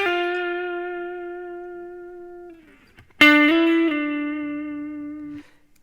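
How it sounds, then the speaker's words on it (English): An electric guitar plays a sustained note live at Tanglewood in 1970, ringing through amplifiers with reverb and slowly decaying, then a second loud note strikes and rings out as overtones bloom before fading. "Listen to how it decays. Listen to how he uses the reverb and how the overtones start to take over out of the amp."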